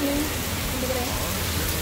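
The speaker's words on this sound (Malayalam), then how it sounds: "പുറത്ത് നല്ല മഴ" Heavy rain falls outside, a dense, steady hiss that fills the short stretch evenly, heard from indoors with no clear voices.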